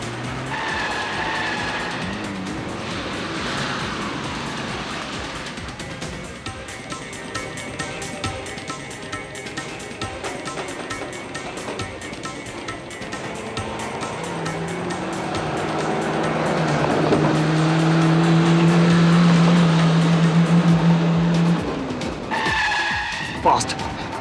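A car driven fast in a Hindi crime drama chase, with skidding tire squeals and a revving engine that grow louder toward the end, mixed with music and occasional voices.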